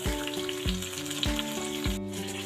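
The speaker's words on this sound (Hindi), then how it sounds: "ये देखिए मेरा ये तड़का जो ना तैयार हो गया" A tarka of cumin seeds and green chillies fries in hot oil, giving a steady close sizzle with soft rhythmic stirring scrapes through the short stretch.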